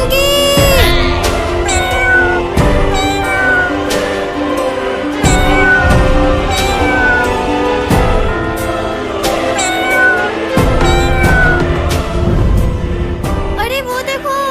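Repeated meowing from a cat and kittens in a cartoon, some high and thin, continuing over a busy background of music and sound effects.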